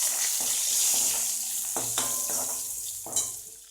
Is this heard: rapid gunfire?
no